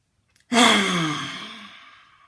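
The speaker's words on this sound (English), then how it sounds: "breathe a nice deep big breath into the belly through the nose, and then exhale, sticking the tongue out" A single deep, breathy exhale with the tongue out, as in pranayama yoga breathing, starting abruptly and fading slowly over about two seconds, close and clear with no talking.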